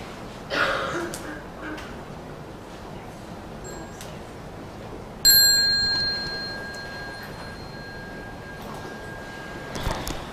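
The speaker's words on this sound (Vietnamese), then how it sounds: "Chuông nhỏ." A small meditation bell in a Plum Village Buddhist temple rings with a clear, sustained metallic tone that slowly fades, after a fainter earlier chime; quiet room background.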